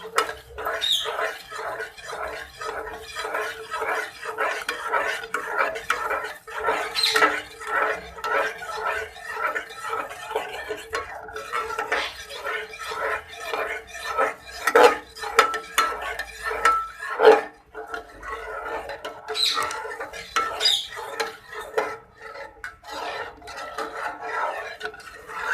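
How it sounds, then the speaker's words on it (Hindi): A spoon scrapes and rasps rhythmically against a cooking pot while sugar is stirred in before milk goes in, repeated close strokes of moderate loudness with no talking. "अब हम इसे हिलाते जाएंगे, चीनी को मिक्स कर लेंगे अच्छे तरीके से"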